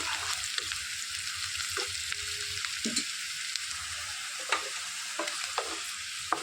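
Curry leaves and turmeric fry in hot tempering oil for a brinjal fry, giving a steady soft sizzle broken by occasional crackling pops and a stirring scrape.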